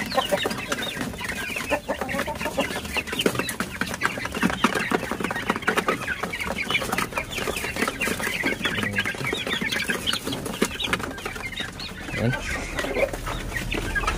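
A large flock of about ninety colourful Basilan chicks keeps up a dense, continuous chorus of high peeping and soft clucking, busy and lively throughout with no talking.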